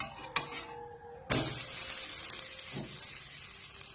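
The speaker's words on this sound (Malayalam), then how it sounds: "ദോശ നന്നായിട്ട് മൊരിഞ്ഞ് വന്നിട്ടുണ്ട് നമുക്ക് ഇതൊന്ന് മറിച്ചിടാം" Green gram dosa flipped in a hot oiled pan: a sharp tap, then a sudden burst of steady frying sizzle that keeps crackling softly, close by.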